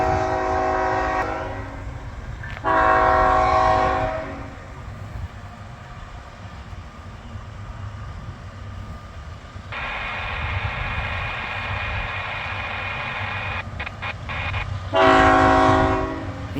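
An intermodal freight train rolls past on the Canadian National-CSX line on a windy, rainy day. Loud horn blasts sound at the start, middle and end over a constant rumble of rolling cars.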